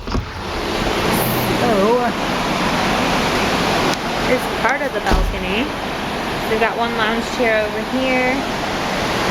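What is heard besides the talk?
ocean water rushing past moving ship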